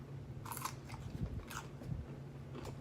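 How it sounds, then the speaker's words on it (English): Someone bites into crunchy pickles close to the microphone, making a few quiet, separate crisp crunches spaced about a second apart over a low background hum. "Excuse my crunching, but these pickles are good."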